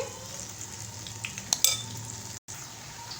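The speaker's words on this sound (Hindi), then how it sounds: "अब हम इनको फ्राई करेंगे अच्छी तरह से" Guava pakoras deep frying in oil, a steady low bubbling sizzle with a couple of faint utensil clinks, close and without speech.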